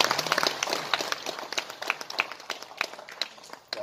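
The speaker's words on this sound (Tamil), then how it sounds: "கரகோஷம் கொடுங்க அவங்களுக்கு." Scattered clapping from the audience at a Tamil film music launch event, uneven individual claps rising and falling with no steady rhythm.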